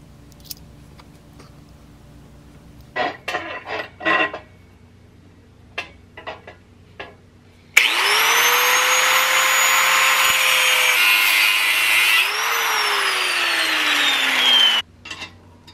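A power tool, likely an angle grinder, cuts a replacement metal part for a broken Kubota tractor: a few short handling knocks, then a loud, steady high-pitched whine that runs for about seven seconds, shifts pitch partway through and stops abruptly.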